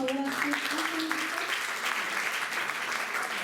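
Steady applause from an audience at a university event in Managua, Nicaragua, filling the room continuously, with a few faint voices at the start.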